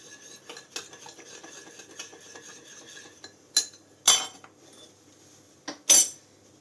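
A spoon stirring flour into oil in a pan, with soft scraping under a low hum broken by a few sharp metallic clinks and scrapes, heard close with no talking.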